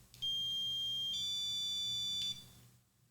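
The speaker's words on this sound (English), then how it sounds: "So it goes, it beeps, pauses, and then stimulates." A Martin System dog training collar remote beeps with one sustained electronic tone lasting about two seconds, shifting pitch slightly partway through, clear and close against a quiet background.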